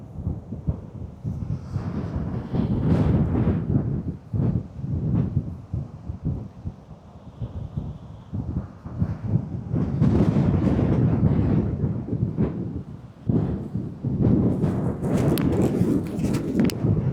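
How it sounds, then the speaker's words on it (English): Strong wind buffeting an action camera microphone under dark clouds outdoors, loud low rumbling gusts that swell and drop throughout, with no clear voice. "the wind is very strong"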